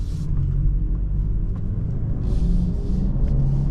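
A BMW i4 M50 electric car accelerating gives a steady, loud low rumble and hum with a few soft clicks, continuous throughout.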